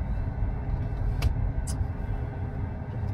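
Tesla car driven manually, a steady low road rumble from inside the cabin with a couple of brief faint clicks, no talking.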